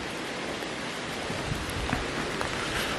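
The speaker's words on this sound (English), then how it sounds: "It's going to start raining again." Rain beginning to fall outdoors at St Nectan's Glen, a steady broadband hiss of drops with faint scattered patters, fairly quiet and even throughout with no voices.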